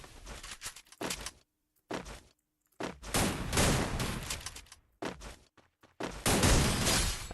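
Rapid bursts of automatic gunfire in the shooter game Free Fire, loud and close, arriving in several clustered volleys separated by brief silences.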